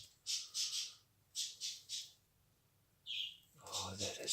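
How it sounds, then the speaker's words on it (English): Birds chirp in the background in three quick bursts of bright, repeated calls, separated by short quiet gaps, with a low murmur rising near the end. "There's the birds again."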